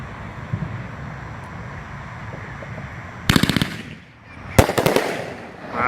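A 500 gram Cutting Edge Eagle Hunter fireworks cake with a fan effect fires outdoors in two loud bursts of rapid crackling shots, with wind rumbling in between.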